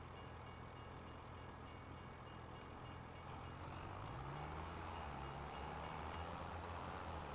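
A train in Farming Simulator 25 rumbles past in a continuous, faint, steady roar that thickens slightly toward the end, with no speech.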